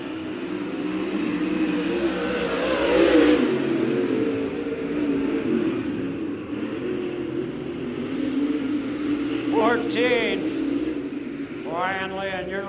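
Late model race cars battle around Lincoln Speedway, a dirt oval, with car 14 leading and car 32 close behind, their engines a steady roar rising and falling under continuous announcer commentary, with several passing whines near the end.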